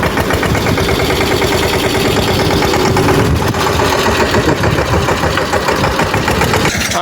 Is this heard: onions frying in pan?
no